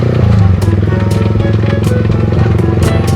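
A motorcycle engine runs steadily and loud nearby, a rough idling rumble with rhythmic pulses and some clatter, while a voice talks over it.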